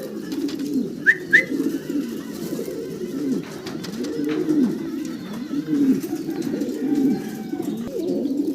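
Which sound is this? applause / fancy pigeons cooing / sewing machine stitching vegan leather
fancy pigeons cooing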